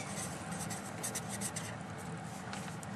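Pen or marker scratching steadily across a page during a Thai English-grammar lesson, a continuous close writing texture under faint room noise with no talk.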